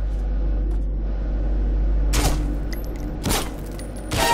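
Gunfire in the video game Saints Row 4 as a light is shot out, three loud sharp shots spaced about a second apart over a low constant engine-like hum.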